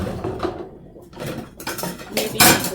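Plates and dishes being washed clink and clatter close by in a kitchen, with irregular knocks against a sink and running-water wash.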